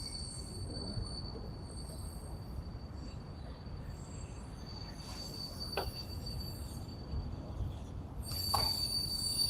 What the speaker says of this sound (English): That train's a longie.